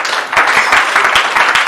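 A church congregation claps and cheers in praise of Jesus, a short burst of loud, dense applause filling the room with steady rapid hand claps.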